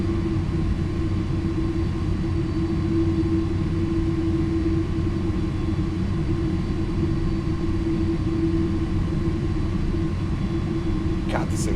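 An MD-11 jet engine spools up during a start in a flight simulator game, producing a loud, constant droning roar with a steady whine throughout and no change in level.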